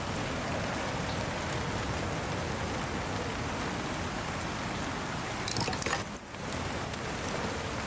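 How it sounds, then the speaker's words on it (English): Rain falling in the Icarus survival video game, a steady, even hiss of drops on surfaces throughout, with a brief clatter and dip near the end. "Right, it's raining"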